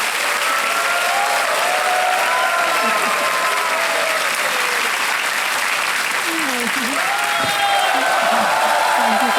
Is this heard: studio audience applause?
yes